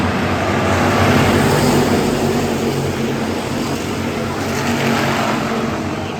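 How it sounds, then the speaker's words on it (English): Hobby stock race cars roar around an oval track, their engines forming a loud, continuous droning rumble that swells and eases slightly throughout. "McCollum's going to look to the inside of Heath Anderson as we have got one around the back straightaway"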